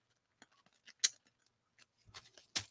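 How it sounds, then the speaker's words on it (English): Scissors snipping a zipper off a soft vinyl plastic bag, with a handful of sharp, quiet cuts and clicks scattered irregularly in a quiet room. "Cut the zipper off."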